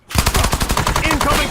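Rapid automatic gunfire in the shooter game Warzone rattles in a fast, loud, steady burst of close shots lasting over a second, with no talk.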